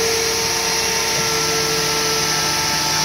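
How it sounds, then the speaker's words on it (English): A CNC router fitted with a 90 degree V bit bevels the outside edge of a walnut board, giving a steady, loud machine whine with constant spindle and motor noise throughout. "loaded up a 90 degree V bit, and I've set the height on it. It's going to go around and bevel the outside edge"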